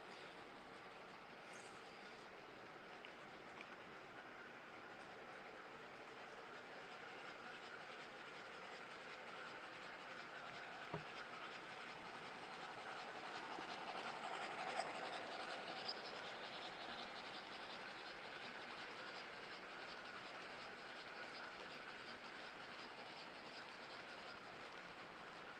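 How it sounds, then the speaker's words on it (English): Several model trains, including an F3 diesel and geared Shay and Climax steam locomotives, run together on a large hobby room layout, giving a steady, soft rolling rumble with faint clicking, no talk. "So we're running 5 trains at the moment."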